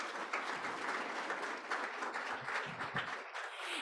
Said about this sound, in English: Please give them a round of applause if you wouldn't mind.